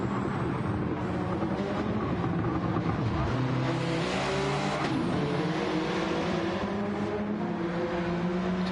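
Race cars cornering at the Nurburgring Sprint Circuit in the Gran Turismo video game, a continuous loud engine roar with shifting revs and gear changes, layered under a commentator talking.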